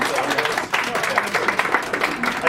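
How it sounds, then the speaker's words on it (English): Audience clapping at a talk on diversity, a steady moderate patter of many hands with a voice briefly over it. "if you want to clap for him right now"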